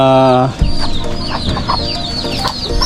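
Chickens cluck loudly and close in egg-laying cages, with a busy run of overlapping clucks and squawks following a brief sustained tone at the start.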